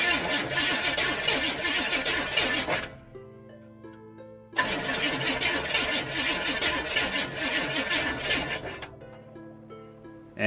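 A 1964 Chevrolet Impala, abandoned for over 20 years, cranks on its starter in two long bursts of rapid rhythmic churning without catching, separated by a quieter pause with a faint hum, then a brief third burst at the end.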